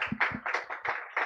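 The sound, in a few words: audience applause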